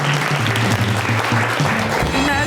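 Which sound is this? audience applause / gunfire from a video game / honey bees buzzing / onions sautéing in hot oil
audience applause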